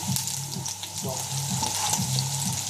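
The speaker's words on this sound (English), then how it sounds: "Sauce is definitely boiling." Seafood sauce boils and sizzles in a pan, giving a continuous loud frying hiss with gentle bubbling pops and a low underlying hum, up close and without talk.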